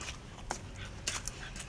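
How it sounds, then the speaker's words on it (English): A dog out on a nature walk makes faint whimpers and soft yips against steady outdoor ambience, with short bursts of sound scattered through the moment. "Fannie Mae, the doggy"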